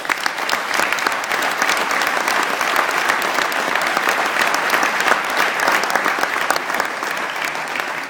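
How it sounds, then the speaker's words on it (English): At an awards event, a large audience gives a round of applause. The steady, loud clapping runs continuously for several seconds with no talk over it. "that is worth a round of applause"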